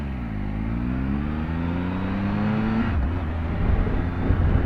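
A 2018 Triumph Tiger 1200 XCA engine pulls hard under steady throttle, its rising drone dropping abruptly at a quick upshift before continuing, loud and close amid wind rush.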